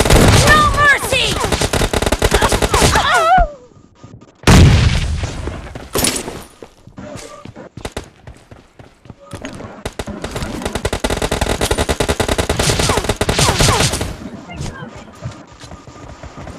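Shotgun fire in a team deathmatch video game comes as loud, close bursts of rapid blasts with short gaps between volleys and a long sustained run of shots near the end.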